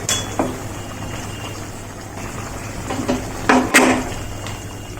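Eggplant curry with gram flour simmering in a wok, a low steady bubbling and sizzling with a few soft clinks and stirring knocks near the end, heard close up.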